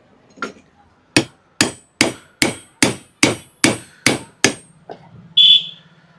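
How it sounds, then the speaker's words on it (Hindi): A steel shaft hammers a bush into a mixer grinder jar with nine sharp metallic strikes in an even rhythm, close and loud, followed by a short ringing tone. "साफ्ट से आपको इसके बुश को ठोक देना है इस तरीके से"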